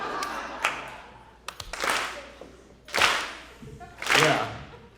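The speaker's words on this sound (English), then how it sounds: "if you could just start clapping" A comedy club crowd at the Laugh Factory claps together in a slow, loose rhythm. Three or four broad, swelling unison claps arrive about a second apart, fairly distant and not perfectly in sync.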